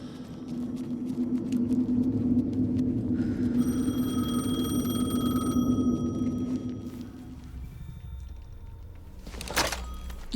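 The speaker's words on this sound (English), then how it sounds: "The phone again." A telephone in Alan Wake 2 rings with a bright electronic trill over a low ambient rumble, fading out before a thud and a brief noise burst near the end.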